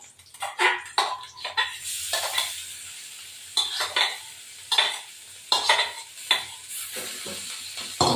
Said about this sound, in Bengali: পেঁয়াজ ভাজা হয়ে গেছে, এর মধ্যে একটা ডিম ভেঙে দিয়ে দেবো